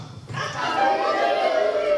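Several voices together imitate a rooster's crow, a drawn-out rising and falling call that swells after a brief pause and holds to the end.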